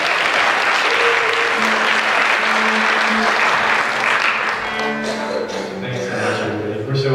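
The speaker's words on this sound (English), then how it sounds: "Please give them a round of applause," Concert audience applauding steadily and loudly at a Hope for Women benefit concert in 2015, a dense wash of clapping throughout, with some cheering and music-like tones emerging toward the end.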